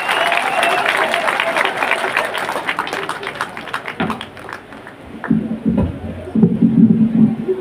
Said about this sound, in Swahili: hebu tumkaribishe gavana wa Murang'a kwa makofi